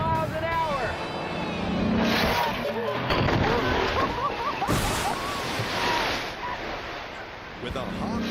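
Car accelerating down a guided track toward a pond for a water-skipping test, its engine revving up in rising whines amid gusty wind and splashy outdoor noise, with a voice speaking over parts of it.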